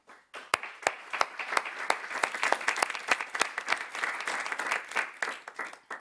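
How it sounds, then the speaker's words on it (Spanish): Applause at the opening of a sports psychology conference, starting sparse and building into brisk, fairly close clapping with distinct individual claps standing out, then thinning toward the end. "os pido simplemente un fuerte aplauso para inaugurar la jornada"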